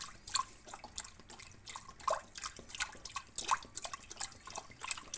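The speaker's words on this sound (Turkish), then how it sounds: "Üzerine bir litre sütümü ilave ediyorum." Milk pouring into a pot of washed rice for Turkish rice pudding, a quiet uneven splashing and dripping stream that runs in small bursts throughout.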